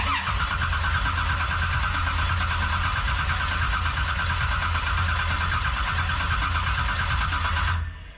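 A twin turbo jet drag boat engine cranks and tries to start, a loud continuous droning whine with a steady mechanical pulse that runs for about eight seconds before cutting off.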